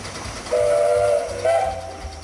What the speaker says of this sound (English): The train then steams on through the slippery tadpole cutting, and meanders through six bends into the woods.